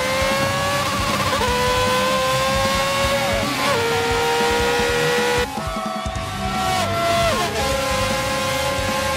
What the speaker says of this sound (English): Look at Rainbow Dash zipping around the Equestria as she closes in once again with Lewis Hamilton.